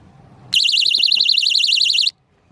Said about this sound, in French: Signal SOS amorce, alarme 125 décibels